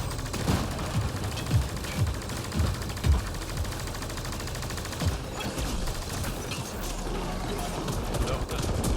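Dense, continuous gunfire and impacts in Mass Effect Andromeda multiplayer, clustered rapid shots throughout a busy firefight, with voices talking over the combat.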